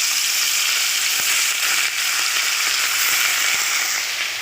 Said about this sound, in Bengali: এবার আমি এই ম্যারিনেট করা মাছগুলো আমি ভেজে নেব একে একে